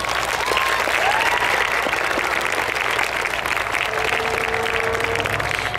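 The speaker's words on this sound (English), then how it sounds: "Class of 2011, a round of applause for the people who have made this day possible." A full crowd applauds at a Class of 2011 graduation ceremony, a dense, steady round of clapping that holds at an even loudness for several seconds, with faint voices mixed in.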